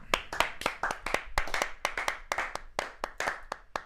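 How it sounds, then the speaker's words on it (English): A small group claps to welcome guest Jimmy O'Brien onto a live show, distinct sharp hand claps in a quick uneven rhythm, close and clear with no talking. "Thank you for the claps"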